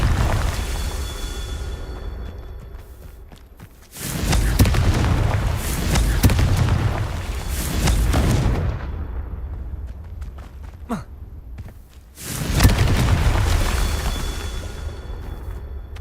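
Spell explosions from the Confringo fire charm in the Harry Potter: Hogwarts Mystery game, two loud booming blasts with roaring rumbles that swell and fade, separated by quieter game ambience.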